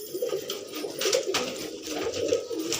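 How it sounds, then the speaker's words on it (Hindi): Lakka pigeons coo in soft, repeated throaty pulses, close by and moderately quiet, over faint background noise. "ये लक्का कबूतर है"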